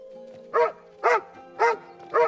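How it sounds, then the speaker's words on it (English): A dog barks four times in an evenly spaced series, each bark loud and close, over a low steady background hum with no talking. "he meets her dog, named Dog."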